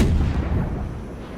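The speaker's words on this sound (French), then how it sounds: "Bah, 3 obus qui s'écrasent plutôt." Naval shells crashing down in the World of Warships game, heard as a loud, close, booming rumble that rolls and slowly fades over a second and a half, with no talk.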